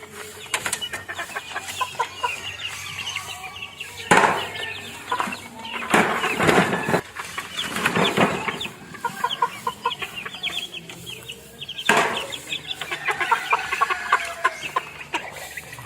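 Backyard chickens, Tasmanian Black crossed with Golden Boy, cluck and call near at hand in a steady stream, with a few louder bursts standing out from the flock's chatter.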